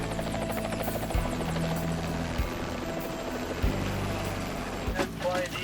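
A helicopter hovers overhead for a hoist lift during a plane salvage, its rotor chopping steadily, loud and close, with voices faintly audible beneath the thumping drone.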